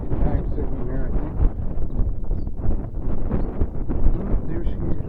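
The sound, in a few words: wind blowing at a park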